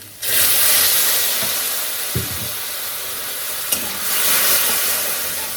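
Turmeric and coriander powder stirred with a splash of water in a hot pan, giving a hissing sizzle with a couple of sharp knocks from the spoon and a rise in steam noise toward the end.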